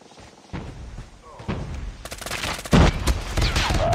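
Gunfire bursts and thuds from a ranked Call of Duty Mobile match, growing denser and louder toward the end while a player talks over the action.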